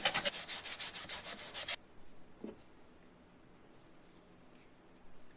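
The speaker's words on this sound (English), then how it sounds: "let's sand this down" Sandpaper rubbing a wooden dowel in quick repeated strokes, close and fairly loud for under two seconds, then fading to near silence with a faint tap.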